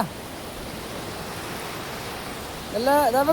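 Sea waves at Murudeshwar beach make a continuous broad wash of surf, fairly loud and even throughout, with a voice cutting in briefly at the very end.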